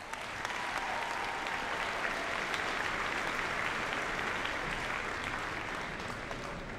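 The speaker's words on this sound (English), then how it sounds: "Let's give ourselves one more round of applause." Graduates at a Hopkins High School graduation ceremony give themselves a round of applause, a dense, even wash of many hands clapping at steady volume from start to finish.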